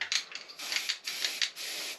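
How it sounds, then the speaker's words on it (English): Several short hissing bursts of zinc spray from an aerosol can onto a metal antenna ground spike, close by, in quick uneven pulses with brief gaps between them. "I use some zinc spray."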